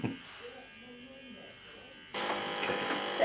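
An electric shaver runs against a head during a full clean shave before fitting a hair system, its buzz softer at first, then louder and closer for the last second, with a voice speaking briefly at the start.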